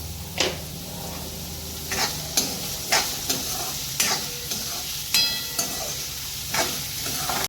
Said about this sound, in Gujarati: પછી અહીંયા આપણે ડુંગળીને સ્વાદ અનુસાર મીઠું એડ કરીને ડુંગળીને સાંતળવા દઈશું।